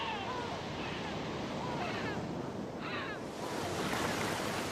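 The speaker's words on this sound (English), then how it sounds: "the rise and swell of the crashing waves" Ocean waves surge and crash along a stormy coast in strong wind, a steady roaring wash that swells and recedes, with faint bird calls over the surf and no talk.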